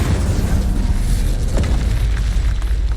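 A loud spell explosion from a video game booms through the whole stretch, a dense continuous blast with a rumbling low end and no talk over it.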